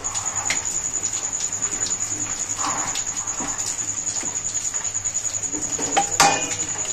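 Chicken bharta being stirred in a pan, soft scraping and clinking of a utensil against metal with a few sharper knocks, under a constant high-pitched background whine.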